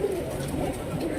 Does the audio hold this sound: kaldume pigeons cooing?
yes